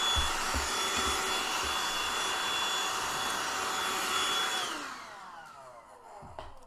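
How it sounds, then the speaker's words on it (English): A vacuum cleaner runs loud and steady while cleaning up workshop debris from making miniature gravestones, then winds down as it is switched off, with a couple of faint knocks after. "I just keep the vacuum there from now on."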